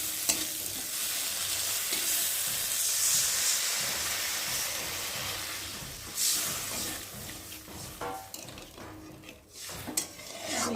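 Water splashed into frying masala for a rohu fish curry sets off a loud, steady sizzle and steamy hiss, with stirring scrapes and occasional pan knocks close by.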